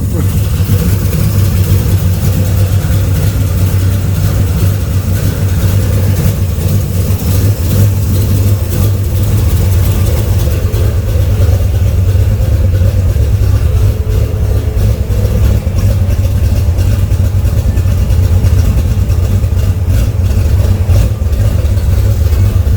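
A twin-turbo big-block Chevy engine idles steadily with a deep, constant rumble, loud and close, with no other sounds breaking through.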